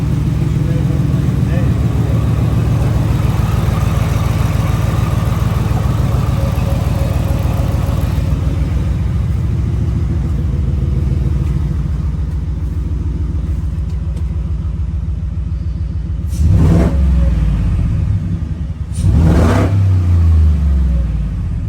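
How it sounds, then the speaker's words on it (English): A 2024 Ford F-150 with a newly installed Whipple supercharger and its number 2 coil pack left unplugged runs with a steady, slightly shaky rumble, then gives two loud, close revs near the end. "I started it up and it seemed to run okay, but it was a little shaky"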